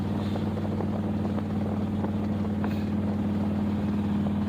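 A 1963 Plymouth Belvedere wagon's engine rumbles steadily through Thrust mufflers while driving, a continuous low exhaust drone that holds even throughout.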